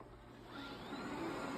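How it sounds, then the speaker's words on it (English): A robot vacuum cleaner runs nearby with a steady, continuous whirring motor drone that grows slightly louder partway through, with no talking. "Stupid little vacuum."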